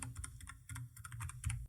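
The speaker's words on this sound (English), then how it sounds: "simply typing in a name for your" Quick bursts of keystrokes on a computer keyboard, close and clear, pausing briefly about halfway before the typing resumes, with no voices.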